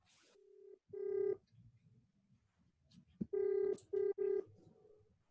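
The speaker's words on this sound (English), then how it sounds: "someone's making a phone call there by the looks of it" Telephone keypad tones dial out during an online class call, a steady tone followed by several loud, evenly spaced beeps in short bursts, with faint background noise between them.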